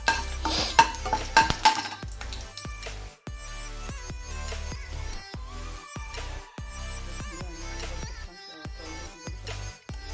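Onion fries in hot oil after whole spices, stirred with a spoon that scrapes and clinks against the pan in repeated strokes over a soft sizzle.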